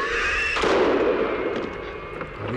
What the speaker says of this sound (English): He shot himself.